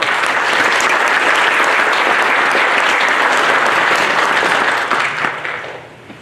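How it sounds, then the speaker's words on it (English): Applause at a school board candidates' forum, a loud continuous wash of many hands clapping that holds steady and then tapers off near the end. "Round of applause."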